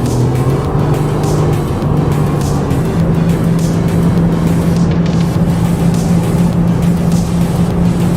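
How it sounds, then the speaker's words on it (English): A 2024 BMW M4 Competition convertible cruising through hot desert terrain, its engine a steady, loud drone with road and wind roar, continuous for the whole stretch with no talking. "M4 competition, convertible, 2024 model, driving through the desert."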